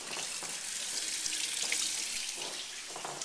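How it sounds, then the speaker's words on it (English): Chicken breasts being rinsed under a running kitchen tap while making soup, a steady hissing splash of water with small shifts as the meat is moved under the stream. "Let's go in and rinse them off in the water."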